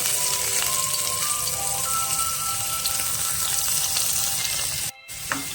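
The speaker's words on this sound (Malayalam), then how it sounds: "ഇപ്പോൾ നമ്മൾ സബോള, വെളുത്തുള്ളി, മല്ലിയില, പച്ചമുളക് ഇത് കുനുകുനെ അരിഞ്ഞത് നമ്മൾ അതിലേക്ക് ഇടുക." Finely chopped onion, garlic, coriander leaf and green chilli frying in hot coconut oil, a loud steady sizzle that cuts off briefly near the end before resuming.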